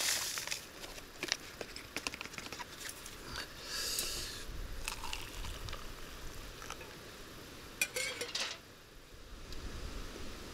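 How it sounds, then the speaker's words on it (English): Chewing rehydrated hot fruit soup with apple and mango pieces from a Norwegian arctic field ration, close soft mouth sounds with utensil clinks and packet crinkles, quiet and irregular. "I'm just chewing my way through the soup, literally, with the nice pieces of apple, mango in there"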